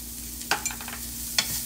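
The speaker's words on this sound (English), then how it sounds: "And now I'm just kind of like frying my curry here." Curry paste with onion frying in a pan, a soft steady sizzle broken by a few short stirring scrapes, close by with no talk.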